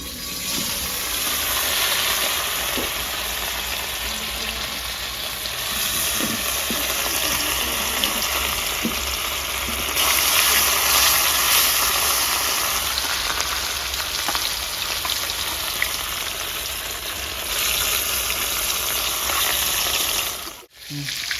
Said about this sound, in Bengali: বন্ধুরা কড়াইটা চাপিয়ে দিলাম, মাছটা ভেজে নেবো।